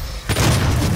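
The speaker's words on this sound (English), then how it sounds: "Oh, you dropped a grenade." A grenade explodes in the video game Doom multiplayer, a sudden loud boom that cuts in after a quiet moment and rumbles on with a noisy, sustained decay.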